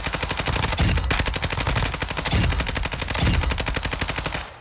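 Lockman 556 rifle from Warzone 2 firing in rapid sustained automatic bursts, loud and close, with brief pauses between strings of shots and no talking.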